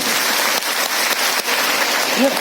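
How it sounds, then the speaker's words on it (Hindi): A group at a talk on tribal culture claps together loudly in a dense, continuous wash of applause with a few sharper accents that hold steady throughout. "जोरदार ताली आप सभी के लिए"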